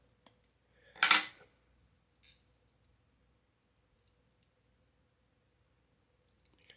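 Scissors trimming material on a fly-tying hook: one sharp close snip, a softer second snip after a pause, then a faint click near the end against a quiet background.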